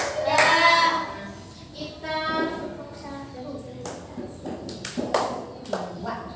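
Children's hands clap in a classroom clapping game, a few sharp claps spaced through the clip, mixed with voices and talking.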